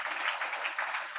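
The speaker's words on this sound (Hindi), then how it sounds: "जोरदार ताली बजाकर धन्यवाद दो प्रभु को" A church congregation claps loudly and steadily together, a dense wash of applause with no gaps in it.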